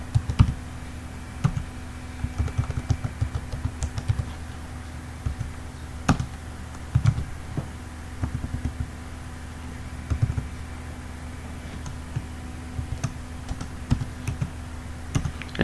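Quick bursts of clicks come from a computer keyboard as a password is typed, crisp and close, in short irregular runs separated by pauses, with no voices.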